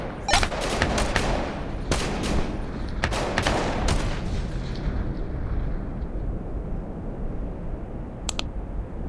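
Gunfire in the Tactical Assault VR shooter game: a burst of sharp shots in the opening seconds, several more cracks around two to four seconds, then a noisy lull and a final short double report near the end.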